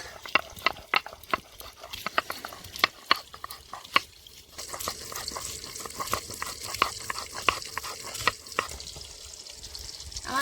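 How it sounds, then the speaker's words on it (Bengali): Ginger and garlic pounded into a paste on a stone for a Bengali okra, potato and grass carp curry, giving steady rhythmic grinding and scraping strokes with sharp repeated clacks, close and moderately loud, no speech. "ভেন্ডি আলু মাছের ঝোলের জন্য আমি কিন্তু আদা রসুনটা প্রথমে বেটে নিচ্ছি"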